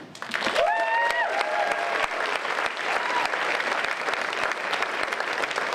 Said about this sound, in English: Make some noise for the hilarious Richard Hunter.